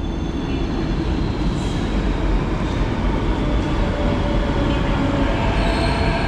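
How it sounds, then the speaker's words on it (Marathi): A Mumbai metro train running from Ghatkopar toward Versova rumbles loudly and continuously at a station, with a steady roar and faint wheel squeal throughout. "मेट्रो आले घाटकोपरवरून वर्सोवाला जाते."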